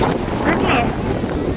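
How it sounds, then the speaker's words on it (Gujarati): Strong wind buffets the microphone in a steady roar, with a voice speaking underneath. "બહુ પવન આવે છે"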